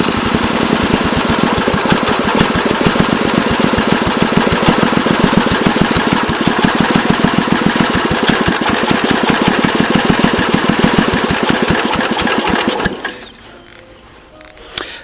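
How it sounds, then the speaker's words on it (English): A Bolens 1050 garden tractor's small engine idles steadily with an even, rapid chugging pulse that holds loud and close for about thirteen seconds, then cuts off abruptly into near quiet. "She idles down nicely."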